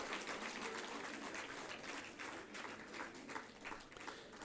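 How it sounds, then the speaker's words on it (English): Faint, distant applause from a standing university audience welcoming a vice chancellor at a G20 event, a continuous wash of many hands clapping without any voices. "give a standing ovation with a big round of applause to invite our Honorable Vice Chancellor"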